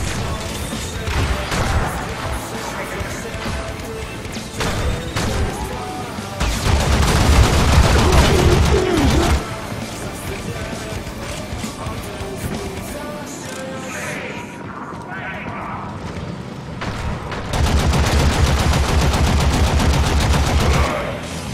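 A heavy gunner enemy in the Warframe video game fires long, loud automatic bursts, mixed with other weapon fire and impacts, easing briefly before another sustained volley.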